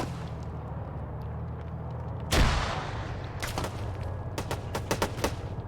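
A frag grenade exploding in a tactical shooter game, one sharp, heavy blast with a rumbling tail, followed by scattered rapid gunfire cracks at a distance.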